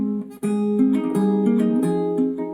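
Acoustic guitar fingerpicked through a chord progression from a song, close and clear, with steady plucked notes ringing over changing chords and no talking.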